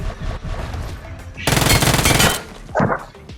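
Automatic gunfire in the BGMI mobile battle royale game, fired during a jump shot: a loud sustained burst of rapid shots lasting about a second, followed by a shorter burst, with quieter game sounds before.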